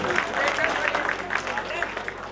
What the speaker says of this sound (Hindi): प्यार के नाल लगाओ, पर मिल के जोरदार तालियां लगाओ